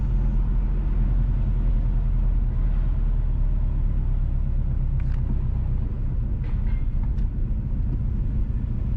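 Car driving along a rural road at Farm Pen, St Mary, Jamaica, heard from inside as a constant low rumble of engine and tires with a few faint clicks and rattles.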